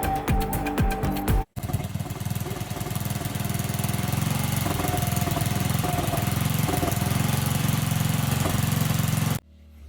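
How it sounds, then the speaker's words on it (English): A lawn mower engine, its carburetor in need of adjustment, putters steadily outside at a close, loud level, with a brief dropout early on before the running resumes and continues to the end. "I think I hear my mower puttering out there."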